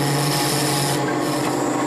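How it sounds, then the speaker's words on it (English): A 3/8 inch gouge cuts a cove into spinning wood on a lathe for a corner chair part, making a continuous close, even, raspy scraping with no talk. "Now I've switched to a 3/8 inch gouge, and I'm going to work on this section right here, creating a cove."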